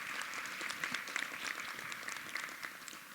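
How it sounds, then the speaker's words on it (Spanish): An audience at a weekly assembly applauds the event participants; the steady clapping sounds faint and distant throughout. "Quiero iniciar invitándoles a darle un aplauso a todas las personas que participaron en este evento"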